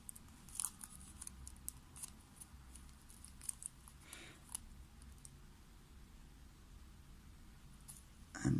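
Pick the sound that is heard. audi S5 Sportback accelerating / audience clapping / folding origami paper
folding origami paper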